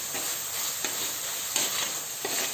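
Curry leaves sizzle in a pan with ginger and garlic for a mackerel curry, a continuous bright, close hiss with faint periodic stirring swells, no talking.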